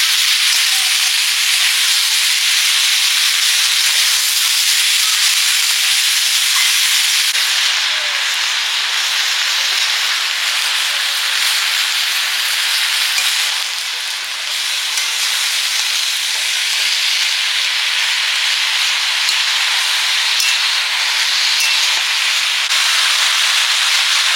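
Leafy greens hit hot oil in a pan with a loud, continuous hiss of sizzling and steam, a dense steady crackle that holds for over twenty seconds with only slight dips.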